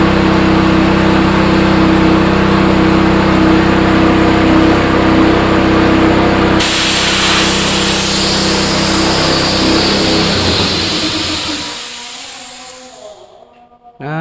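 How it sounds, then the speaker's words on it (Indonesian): An air compressor pumps air into the airbag of a tire press in a motorcycle tire retreading workshop, a steady loud mechanical roar that shifts in tone midway and fades out near the end. "angin masuk dari kompresor ke airbag ini"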